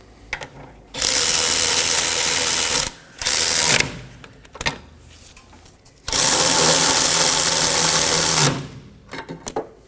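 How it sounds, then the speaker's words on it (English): Two 19mm bolts are snugged down on the brake caliper bracket of a 2015-2023 Nissan Maxima. A power tool gives loud buzzing bursts, two short ones and then a longer run, with quieter clicks and handling noises in the gaps. "And install your two 19mm bolts. Now snug these down."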